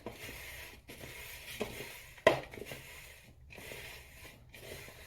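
Mushrooms mixed with salt are stirred in a pan, making soft scraping and stirring sounds with faint sizzle in bursts, one sharper clink of utensil against cookware midway, fairly quiet with no talk.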